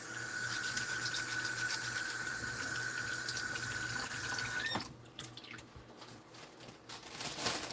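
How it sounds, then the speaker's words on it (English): Hands are washed under a running kitchen sink tap while making cast iron pizza dough, a steady loud rush of water for about five seconds, then the flow stops and leaves small splashes and drips. "I gotta wash my hands."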